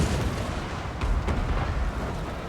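A Dwarf Organ Gun firing in the fantasy battle game Total War: Warhammer, giving a dense, continuous roar of booming volleys and rumbling battle noise with no pauses.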